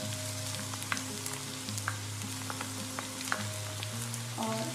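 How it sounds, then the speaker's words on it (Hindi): Okra frying in a pan for bhindi masala, a steady close sizzle with a low hum under it and scattered crackles and pops throughout, no voices. "अब हम इसको अच्छी तरह फ्राई करेंगे।"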